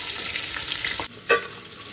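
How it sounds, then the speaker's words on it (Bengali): Drumsticks and bitter gourd fry in hot oil in a steady, crackling sizzle. Brief stirring sounds break in near the end, and a sharp spatter rises close by. "এদিকে সজনে ডাঁটা আর উচ্ছে ভেজে নিলাম"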